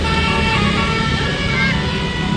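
A passing bus sounds its melodic basuri musical horn over a loud, steady roar of engine and road noise, with voices faintly mixed into the background.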